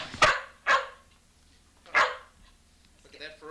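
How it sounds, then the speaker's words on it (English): A small dog barks three sharp times indoors, close and clear, with short pauses between barks and faint quieter sounds after. "Look at that ferocious bark."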